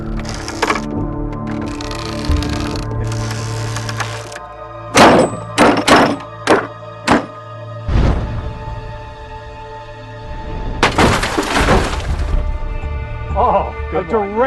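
A ballista projectile fired from about 300 feet strikes a wooden target with a series of sharp cracking thunks, loud and close, amid outdoor noise and a voice speaking.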